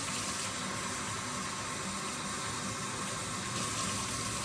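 Steady rush of water running from a kitchen tap, measuring out 1.5 cups to add to a boxed stuffing mix. It is a continuous close hiss with no talking.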